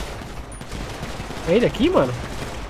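Gunfire in the GTA 5 roleplay video game, faint scattered shots crackling in the background while someone talks over them.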